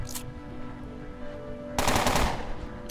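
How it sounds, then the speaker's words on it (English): A single loud burst of automatic gunfire rings out in the Underrail video game after a quiet stretch with a steady low hum and a faint earlier crack. "His other friend rounded the corner first and used a burst attack and missed us with it"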